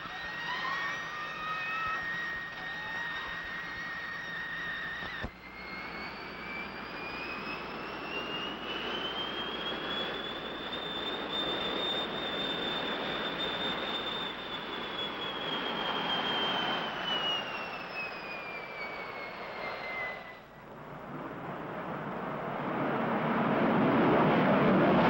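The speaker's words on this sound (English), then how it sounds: "first on the regular jet, and so you can see and hear how it performs" A jet aircraft flying on regular jet power without afterburner roars past in a long, rising and falling whine, building steadily and swelling louder toward the end, heard alone without talk.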